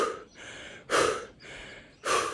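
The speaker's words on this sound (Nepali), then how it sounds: "लामो सास फेर्ने 3 चोटि" A person takes deep, loud breaths close by, with long inhales and exhales in a slow repeating rhythm.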